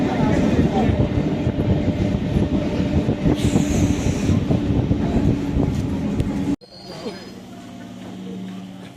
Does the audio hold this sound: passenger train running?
yes